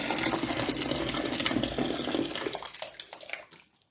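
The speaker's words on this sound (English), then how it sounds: "I'm just going to start adding kettles of hot water" Hot water poured from a kettle into a Rit Dyemore Graphite dye bath, a loud steady rushing gush that runs for several seconds before thinning out and trickling to a stop.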